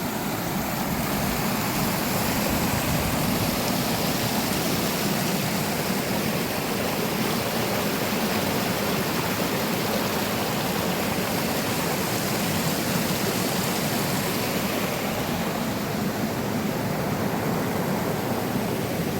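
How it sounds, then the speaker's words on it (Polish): A waterfall in the Roztocze region roars steadily, a dense, unbroken rush of falling water that stays loud and even throughout with no voices. "Jeden z większych wodospadów."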